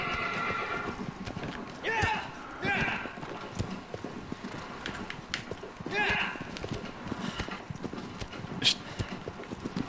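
A horse gallops in the video game Shadow of the Colossus, with rapid rhythmic hoofbeats running throughout and several loud neighs breaking in, all close and prominent.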